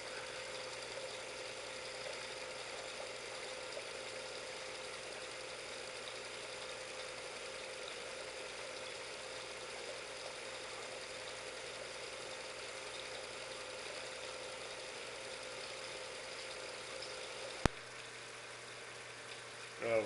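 A Visible V8 model engine runs slowly at about 500 RPM, giving a faint, steady mechanical hum with a fine rattle. The sound stays even throughout, with one sharp click near the end.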